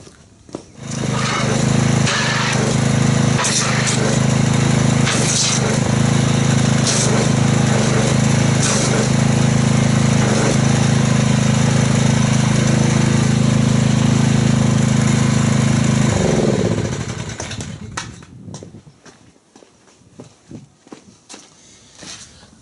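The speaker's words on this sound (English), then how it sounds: "let me grab the pressure washer and see how the foamage is in the bucket" Gas pressure washer running loudly and steadily up close, spraying water into a car wash bucket for about fifteen seconds before the engine winds down to quiet.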